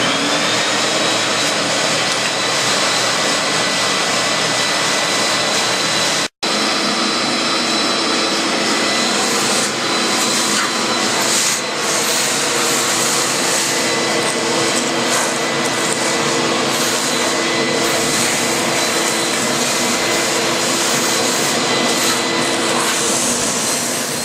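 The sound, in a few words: vacuuming a cork surface before sealing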